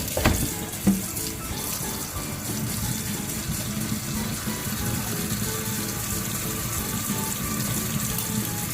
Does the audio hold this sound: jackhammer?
no